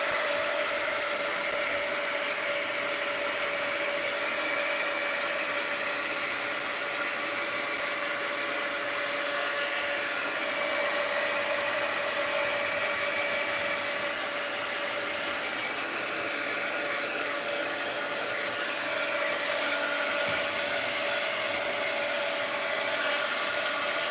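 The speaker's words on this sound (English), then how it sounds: "Let's hit it with the heat gun." Heat gun blowing steadily on a mixed media art journal page, a loud continuous whooshing hiss with a faint whine that stays constant for over twenty seconds, close up and with no speech.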